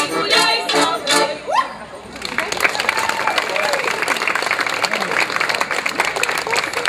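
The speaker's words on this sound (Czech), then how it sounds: "prosím ještě jednou velký potlesk pro naši solistku Jenu Kriušenko" An audience at an outdoor folk crafts fair applauds a folk dance soloist, a steady mass of clapping following an announcer's voice, fairly close and sustained.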